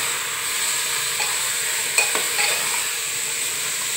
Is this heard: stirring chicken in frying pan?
yes